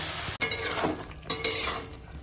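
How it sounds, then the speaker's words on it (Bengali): Pre-fried cauliflower stirred in a pan with turmeric and salt, a steady close sizzle under repeated scraping stirs of a spoon against the pan, with no talk. "আর এখন দিয়ে দেব এই ভেজে রাখা ফুলকপি, দিয়ে এখন ফুলকপিটা রান্না করব।"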